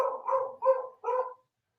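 A dog gives four quick, close barks in a tight burst, then falls silent.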